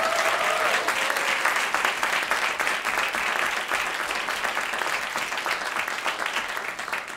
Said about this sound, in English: Could we give a big round of applause for our moderator, Elizabeth Mendez Berry?